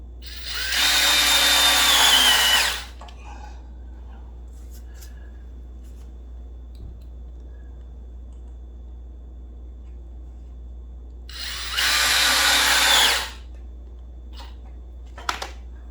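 Power drill driving 3/4 inch wood screws into a wooden A-frame plant stand: two loud, close whirring bursts of about two seconds each, separated by a long quiet pause.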